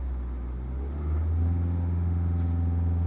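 Toyota engine revving up from idle, a low steady rumble that rises in pitch and loudness about one second in and holds at the higher speed.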